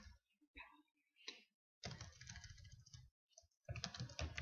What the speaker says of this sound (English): I can't type when people are watching me